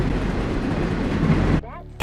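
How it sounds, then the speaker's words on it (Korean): A runaway freight train rushes past with a loud, dense roar and rumble that cuts off abruptly near the end, leaving a quieter tail with a faint sweeping tone. "That was 10 million pounds of train"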